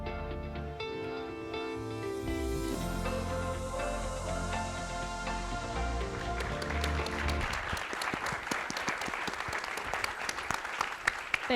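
Sustained applause from a summit audience follows a stretch of loud music and builds into dense clapping that is steady and fairly close, with no speech over it.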